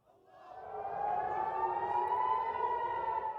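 An air raid siren wails, rising from quiet to a loud, sustained droning tone that holds steady, heard alone without talk.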